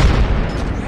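Grenade blast in a competitive first-person shooter: a single heavy low boom at the start whose rumble decays over the next second, close and loud with no talk over it.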